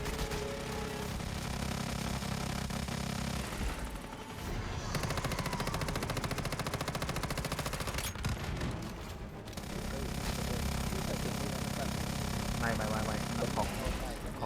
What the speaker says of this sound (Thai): เวลาสาดกระสุน